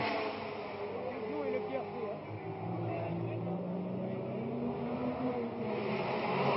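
Formula One race cars at the 1967 Monaco Grand Prix on the street circuit, engines droning and whining steadily at a distance beneath continuous commentary.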